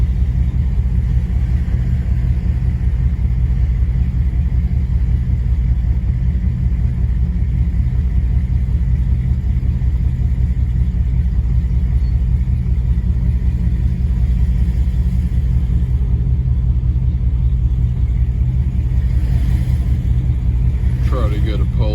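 Steady low engine rumble from a Jeep Grand Cherokee ZJ with a 5.2 V8, heads and cam upgrade, driving in traffic; constant, close and loud, with a faint voice underneath.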